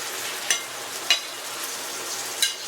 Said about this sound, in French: Dans une poêle qui est chaude. Évidemment, c'est une poêle en stainless, fait que je vais le bouger au début comme ça, un peu sans arrêt.